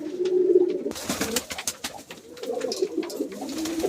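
Domestic pigeons coo in low, throaty, repeated calls, close by, while they step down one by one to bathe in a dish of potassium permanganate water, with light splashing and fluttering in between.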